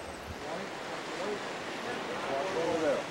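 Pacific Ocean waves wash and swirl close by in a broad, steady surf rush, with wind buffeting the microphone.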